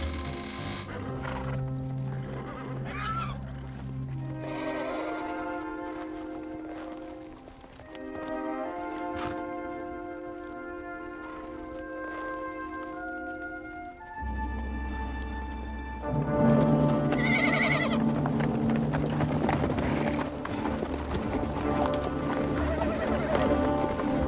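Australian Light Horse cavalry horses move over open ground, with hooves thudding beneath loud dramatic music and whinnies rising in places.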